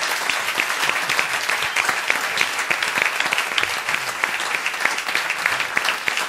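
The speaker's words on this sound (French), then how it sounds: "On peut les applaudir" A live audience applauds steadily at a Cuban-themed event, dense clapping from many hands sustained and fairly loud throughout.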